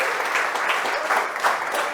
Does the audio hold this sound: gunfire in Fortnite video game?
no